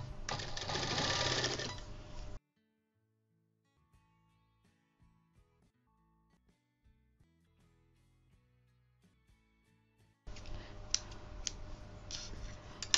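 A sewing machine stitches a belt onto a layered baby frock made from waste fabric. Two loud, steady runs of stitching come at the start and end, with quiet clicks and fabric handling in the gap between.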